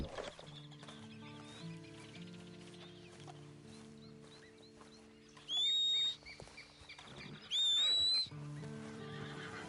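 Two sharp horse whinnies from Red Dead Online ring out over a soft background music bed, with faint clucking and hoof clip-clop mixed in.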